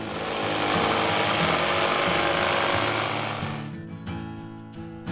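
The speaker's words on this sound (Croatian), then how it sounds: "Pa smo onda to ugrubo krojili ubodnom pilom." Jigsaw roughly cutting a plywood panel in a school workshop: a loud, steady buzzing saw stroke for about four seconds that then drops away to quieter mechanical rattling, with no talk.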